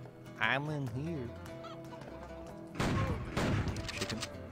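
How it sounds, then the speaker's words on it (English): Video game fowl calls, a few honking clucks up front, then a burst of rapid popping like gunfire in the second half. "Chicken."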